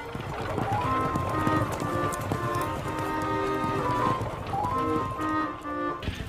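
Cartoon Lipizzaner horses trot with quick, steady clip-clopping hooves, laid over bright orchestral music and heard throughout.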